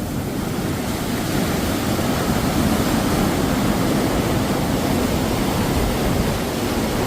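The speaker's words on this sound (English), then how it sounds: "There's the weir." River water on the River Soar roaring over a weir, a loud, constant broadband rush with no breaks, heard close up and without any voices.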